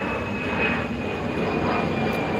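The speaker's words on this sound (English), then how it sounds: "there's an airplane going overhead" Airplane flying overhead near the Potomac River south of Washington, D.C., a steady, loud engine roar that holds throughout without speech.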